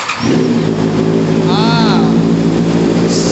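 A Honda CBR650R four-cylinder motorcycle engine runs with a steady, smooth, high-revving drone, loud and close, while someone talks over it.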